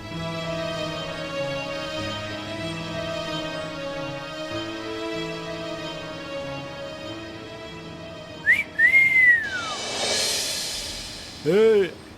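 A person whistles in a few short rising and falling bursts near the end, over steady background music, with a brief higher second whistle at the close.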